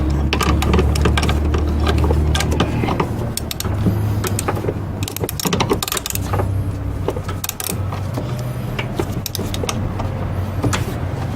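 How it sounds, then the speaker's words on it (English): A 19mm bolt being tightened on a Honda power steering pump with a ratchet or power tool: a dense, steady mechanical whirring and clicking, close and continuous throughout. "we're just gonna tighten this 19mm bolt now."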